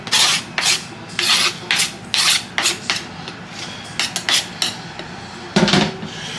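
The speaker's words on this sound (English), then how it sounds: "I'm gonna scrape all this down in there." Repeated scraping of enchilada sauce down the sides of a pan for beef enchiladas, a series of rhythmic rasping strokes, close and fairly loud, with no talk.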